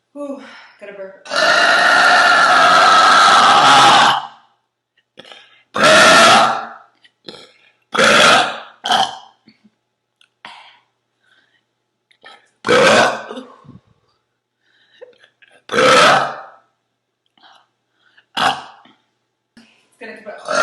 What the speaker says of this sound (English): Ooh, gotta burp.